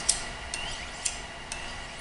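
A kitchen knife is drawn along a sharpening steel in light, even strokes, giving four soft metallic swipes spaced about half a second apart over low background noise.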